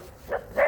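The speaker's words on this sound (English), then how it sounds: "Barking again." Two short dog barks in quick succession, the second louder, with nothing else around them.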